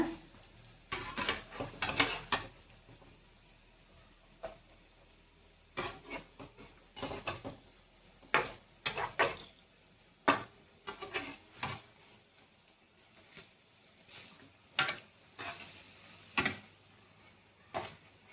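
Mirchi bajji fry in oil in a kadai, a soft, faint sizzle punctuated by repeated clinks and scrapes of a utensil stirring against the pan.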